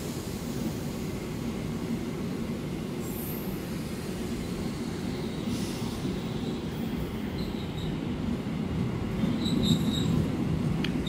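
Trains at a busy Jakarta railway station at night, a steady low rumble of rolling rail cars with faint high wheel squeals and distant tones, continuous and without voices.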